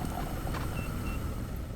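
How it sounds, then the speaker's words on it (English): Short, thin electronic beeps from an alarm in the mining game Mine Mogul, sounding twice over a steady, loud rumble of machinery. "Something's beeping at me."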